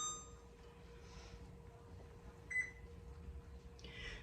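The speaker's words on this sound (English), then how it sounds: "I'm going to turn my oven off." An oven is switched off, giving a couple of short, faint electronic beeps over a quiet kitchen background with soft handling noises nearby.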